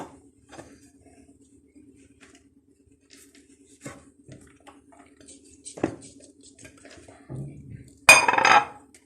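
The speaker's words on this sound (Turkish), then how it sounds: "bunları karıştırma kabımızın içine koyalım" Ingredients for a homemade drink go into a mixing bowl: a few sparse clinks and soft taps over near silence, then a louder burst of clattering and pouring near the end.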